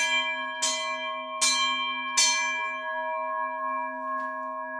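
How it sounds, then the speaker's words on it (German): Cowbells ring with bright struck tones, including an old pasture bell and a large size-13 bell, three strong strikes and a fainter later one, their pitches lingering and fading between hits. "Ein altes Weideglöcklein und gleich eine große, eine 13er-Glocke"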